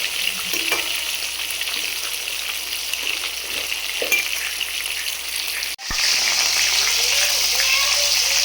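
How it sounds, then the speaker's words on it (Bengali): Fish heads fry in hot oil in a pan, giving a loud, continuous, close sizzle with occasional clinks and stirring as they are turned, and a brief sharp drop and return near the end. "মাছগুলোকে একটু মাথাগুলোকে একটু এপিট ওপিট করে ভালো করে লাল করে ভেজে নেওয়া হচ্ছে।"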